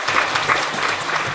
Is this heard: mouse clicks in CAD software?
no